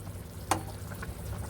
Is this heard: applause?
no